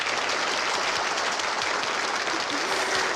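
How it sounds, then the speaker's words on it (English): Steady, dense audience applause at a comedy show, loud and continuous throughout with a crowd clapping evenly and no clear talk over it. "Wow, that applause!"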